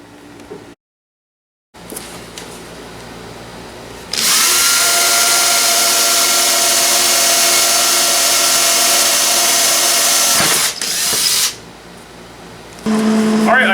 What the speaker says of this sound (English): Alright, I got my holes drilled.